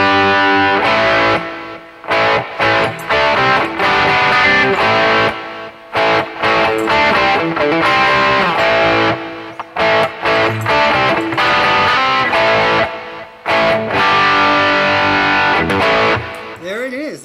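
A distorted electric guitar plays through a BOSS eBand JS amp with reverb. The loud, sustained chords and riffs are choppy and stop-start, and the reverb tails ring out.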